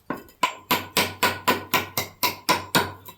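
A stonemason's hammer dresses stone for a thin dry-stacked veneer wall, striking about ten sharp, evenly spaced blows close by. Each ringing crack decays briefly before the next one lands.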